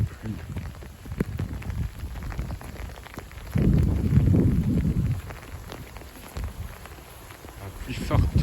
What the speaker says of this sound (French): La pluie forte.